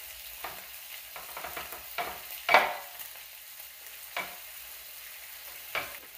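Bacon being mixed by hand into ground meat for sliders, producing soft, scattered squishing and patting bursts with one louder slap midway, close and otherwise quiet.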